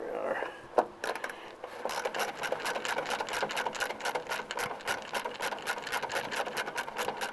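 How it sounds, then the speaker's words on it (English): A Snap-on power tool pulling small bolts from a car during a headlight replacement: a fast, steady mechanical whirring with rapid even pulses, close and continuous after a brief pause and thump. "These things are just so slick for pulling little bolts like this out."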